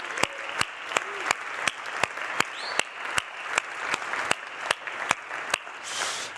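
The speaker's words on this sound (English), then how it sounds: "Big applause to Saida" Conference audience applause at a wood industry conference in South Africa: a faint, steady patter of clapping, with a sharp regular clicking running through it and no talk.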